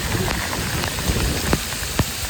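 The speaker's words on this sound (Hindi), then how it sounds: "बहुत तेज़ बारिश लगी है, साथ में फिर हवा भी चल रही है।" Heavy rain with wind in a village, a loud unbroken hiss of downpour with occasional sharper drops striking close by; no speech.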